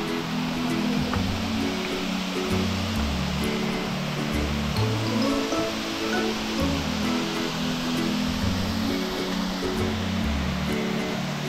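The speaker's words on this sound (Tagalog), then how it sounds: "Daranak Falls dito sa Tanay Rizal." Daranak Falls in Tanay, Rizal, a constant roaring rush of falling water that stays steady and full throughout, close by and with no voices.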